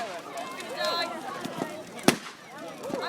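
A firework goes off at a crowded outdoor display in Andover, a single sharp distant crack with faint pops and whistles around it, heard under excited crowd chatter and voices close by.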